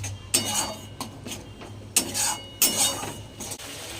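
A lid goes on a cooking pan of chingri bata potol (prawn paste with pointed gourd), with several close metallic clanks and scrapes between quieter moments, no voices.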